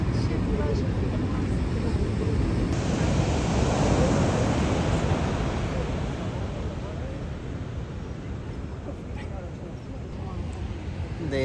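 Ocean waves break and wash onto a beach at sunset, making a steady roaring surf with some wind rumble. A brief voice is faintly heard over the continuous wash.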